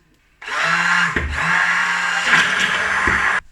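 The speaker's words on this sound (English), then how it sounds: "blend this with my stick blender" A stick blender churns oil-free vegan mayonnaise paste in one loud, steady, close-up run of about three seconds, with small dips as the blade shifts through the thick mixture.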